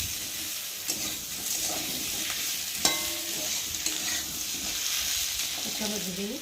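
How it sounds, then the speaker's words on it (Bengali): Steady sizzling of potatoes frying in a pan, with occasional stirring scrapes and clinks, no talking. "দেখো আমার আলুটা ভাজা ভাজা হয়ে গেছে"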